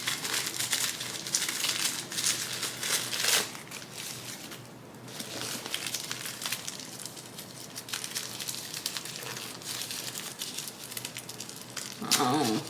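Tissue and packaging paper are peeled and crumpled from around a Chanel 19 handbag, a continuous close crinkling and rustling with occasional sharper crackles, while a person speaks softly now and then.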